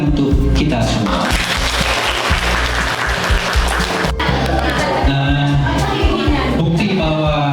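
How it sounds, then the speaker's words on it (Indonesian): Applause from a museum audience of high school students at an educational event, dense and continuous clapping throughout with voices mixed in. "tepuk tangan untuk kita semua."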